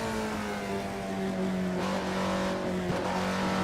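Alfa Romeo 33 Stradale engine in the Assetto Corsa racing game, holding a loud, steady high-revving scream with a slight dip and climb in pitch and no talk over it.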